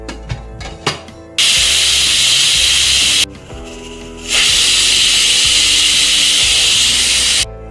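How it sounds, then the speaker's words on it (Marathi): A pressure cooker on a gas stove cooking guava for candy lets out loud, sustained steam whistles, two long hissing blasts separated by a short pause, with kitchen clatter before them. "दोन शिट्ट्या झाल्यात, गॅस आपण बंद करूया।"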